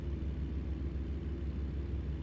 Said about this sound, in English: wonderful sounds of America Truck Simulator for a few minutes